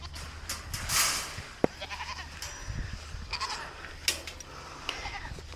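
Goats at feeding time bleat several times, fairly close, over a low background hum.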